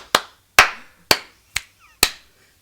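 Five sharp hand claps in unison, struck at a steady rhythm about half a second apart, as a group claps along to a gospel song. Each clap is crisp and close, with silence between them.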